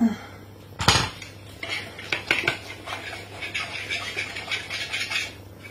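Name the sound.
metal whisk clinking against a bowl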